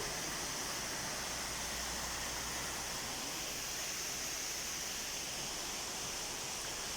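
Yardımlı waterfall in Azerbaijan, a steady broadband rush of falling water, loud and unbroken for the whole stretch with no voices.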